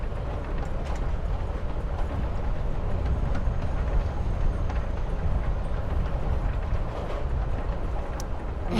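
Train riding along the rails in the video game Life Is Strange: Before the Storm, a continuous low rumble with faint rhythmic clacking throughout, steady and fairly loud.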